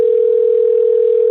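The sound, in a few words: phone ringing on an outgoing call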